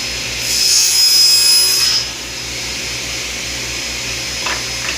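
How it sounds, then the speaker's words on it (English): Saw cutting wood on a Dubby panel sled, a loud rasping burst of about one and a half seconds that drops off into a steady lower motor hum with a faint knock near the end. "Cut my second 10-inch side."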